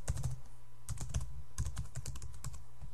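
Keystrokes on a computer keyboard while setting up iCloud Control Panel on Windows, a close run of quick, uneven taps with brief pauses and no talking.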